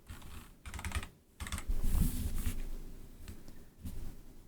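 Computer keyboard clacks as code is typed into a game design script, irregular bursts of keystrokes close up with brief pauses between runs, no talk.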